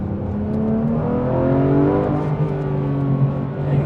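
Engine of a Porsche GT3 Touring as the driver modulates the throttle mid-corner, a loud, close rising and falling drone with shifting harmonic tones and brief dips, heard alone without talk.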